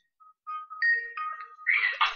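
A phone ringtone in the CR:MP multiplayer role-play game chimes as a short run of bright electronic tones that builds into a denser, louder ringing burst, with no voices over it.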